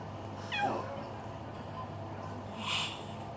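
Fighting cats let out a short rising yowl, then a hissing snarl a couple of seconds later, both faint and a little distant against a quiet background.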